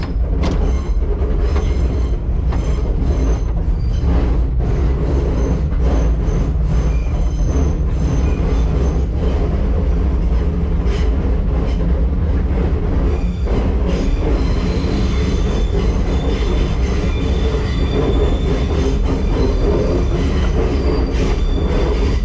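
An R9 subway car runs along track at the Shore Line Trolley Museum in East Haven, Connecticut, with a steady loud rumble of wheels and motors, rhythmic clacking over rail joints and occasional wheel squeal throughout, no talking.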